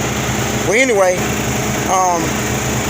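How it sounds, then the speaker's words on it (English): Inside a truck cab, an inverter powers the air conditioner, giving off a steady, close, continuous hum and whir that runs under a man's speech throughout. "I got my inverter here running, the AC on the inside"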